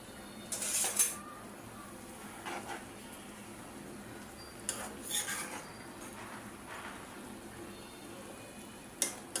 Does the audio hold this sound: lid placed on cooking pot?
yes